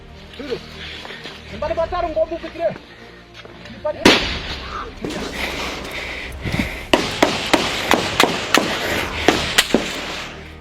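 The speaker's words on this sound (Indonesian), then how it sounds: "momen menegangkan TNI Polri baku tembak dengan teroris KKB Papua" Gunfire exchange between Indonesian security forces and armed militants in Papua: sharp, loud cracks and bangs in irregular bursts, some close and some distant, mixed with shouting voices and talk throughout.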